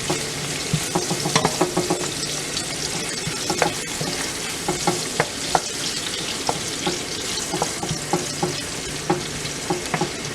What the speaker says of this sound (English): 2 chops of ginger adds a good flavor to the curry as well. We're gonna let this fry a little.